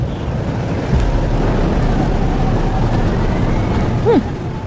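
A storm in the game Life is Strange: Double Exposure: a loud, steady rushing roar of wind and rain that fills the whole moment, with no separate thunderclap standing out.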